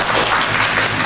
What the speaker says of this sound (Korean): 축하드립니다. 박수 부탁드리겠습니다.